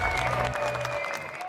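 Applause from a streaming audience: a brief burst of clapping mixed with a sustained tonal hum, moderately loud, without speech.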